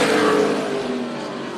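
NASCAR Weekly Series race cars at Tucson Speedway, a loud roaring engine pass that peaks early and fades slightly as the car moves away.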